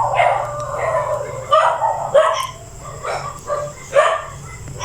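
Several dogs bark in short, irregular bursts, fairly close, with yips mixed in over a steady low hum.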